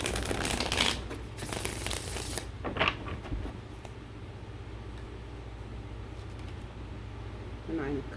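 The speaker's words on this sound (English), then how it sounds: "I'm just going to do a quick shuffle and pull cards." Tarot cards being shuffled by hand, a couple of quick riffling, crinkling bursts up close at the start, then a quiet room with only faint handling noise.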